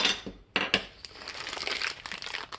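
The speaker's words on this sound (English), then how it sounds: "let's take things out of plastic bags first, shall we?" Plastic bags crinkle and rustle in close, busy bursts as small video kit parts and pieces are unpacked, with a few sharper crackles near the start.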